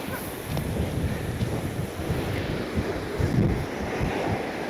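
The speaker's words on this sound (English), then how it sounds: "Oh my God, it's so windy out here." Strong wind roars at the seashore during rough-weather sea fishing, a steady heavy rumble with buffeting gusts, surf faintly mixed in beneath.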